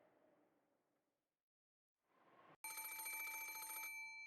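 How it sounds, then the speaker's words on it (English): A telephone rings in the visual novel game Umineko, a loud, bright electronic ring that bursts in abruptly after a few soft, quiet sounds and a brief silence. "Phone call from the external line."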